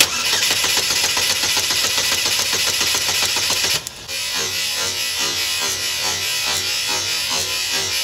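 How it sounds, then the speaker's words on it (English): A Chevy HHR engine with a misfire cranks rapidly with a steady whirring churn for about four seconds, then catches and settles into a loud, rough, continuous running rumble. "I'm gonna go ahead and crank the engine over"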